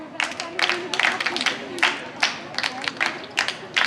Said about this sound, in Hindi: ताली बजा।